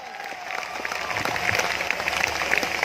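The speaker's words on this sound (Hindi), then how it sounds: "तो ताली भी उनके लिए वैसी होनी चाहिए ना यार" Audience clapping for a guest at a motivational talk, steady dense applause that grows slightly louder over a few seconds, with faint background voices mixed in.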